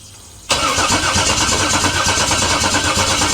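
After a brief low crank, a car engine with freshly cleaned fuel injectors catches abruptly and settles into a loud, steady idle. The motor had been suffering from no oil pressure.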